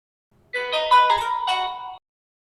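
A Samsung Galaxy S10e plays its short melodic startup chime after a reboot, a bright, close tone lasting about a second and a half out of silence.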